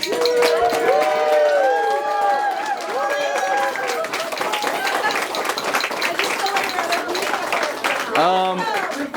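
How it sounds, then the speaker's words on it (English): Wedding guests give a steady round of applause at a reception during the speeches, with cheering and overlapping voices throughout and a brief louder burst of clapping near the end. "give her a round of applause for being such a trooper"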